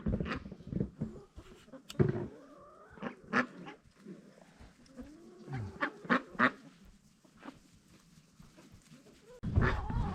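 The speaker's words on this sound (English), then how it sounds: "Hi duckies." Farm ducks quack in a series of nasal, irregular calls at close range, some overlapping, alongside occasional honk-like cries and light rustling, with no talking.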